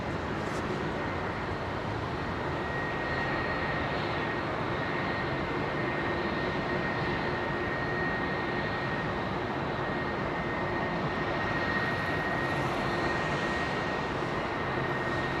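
Ex-KLM Boeing 747 Combi converted to a freighter, with Rolls-Royce RB211 engines, at Heathrow: a steady, continuous jet engine roar held at an even level throughout.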